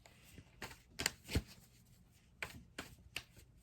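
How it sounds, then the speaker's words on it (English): Quiet, sporadic tarot card handling: a handful of soft taps and flicks spaced unevenly, close by with near silence between them. "I'm just going to shuffle and pull cards from my Mythic Tarot deck"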